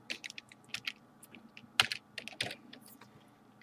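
Rapid, uneven keystrokes clatter on a computer keyboard during a GTA 5 game session, with clustered taps and a few sharper, louder key hits, close and alone without talk.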